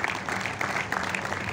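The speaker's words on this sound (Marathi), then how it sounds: "जोरदार टाळ्या झाल्या पाहिजे" An audience at an event at Kala Academy in Goa applauds as an organ player is welcomed. The clapping is steady and fairly dense, with no clear talk.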